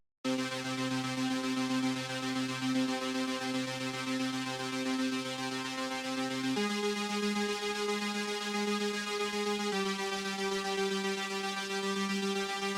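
A plain, constant synth layer from a sound bank, holding sustained tones that shift pitch twice, steady and alone.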